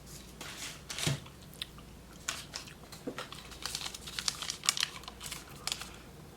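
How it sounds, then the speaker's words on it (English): Close, quiet bite into a bar of 70% dark chocolate, followed by soft crunching and chewing in uneven little clusters. "I'm just gonna take a little bite."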